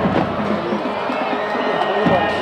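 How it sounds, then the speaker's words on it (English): Crowd noise fills a capacity-crowd high school football stadium on a chilly night, a steady roar of cheering and babble that swells near the end. "Big crowd here tonight at the JTO."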